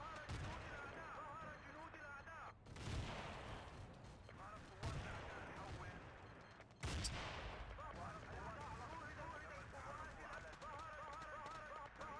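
Artillery shells land in a Battlefield 2 conquest match at a factory map, heavy booming impacts at about 3, 5 and 7 seconds rising over a constant dense wash of game noise, with a voice talking over much of it.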